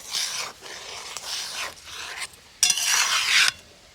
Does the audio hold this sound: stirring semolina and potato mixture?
yes